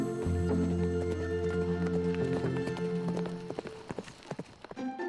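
Hooves clip-clop in a quick, bouncy rhythm as a ridden horse jumps up and down and runs eagerly, near and fairly loud over a steady low hum, trailing off into scattered taps near the end.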